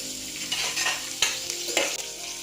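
Finely chopped onions fry in hot oil with tempering spices for Andhra bagara rice, a steady sizzle broken by a few scraping stirs of a spoon in the pan, with no voices.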